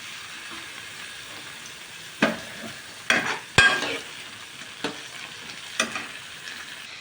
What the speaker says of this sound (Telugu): టమోటా ముక్కలు వేద్దాం